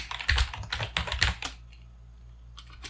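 Quick bursts of typing on a computer keyboard while renaming a button in the Godot editor, a short run of close, crisp key clicks that stops and leaves near silence.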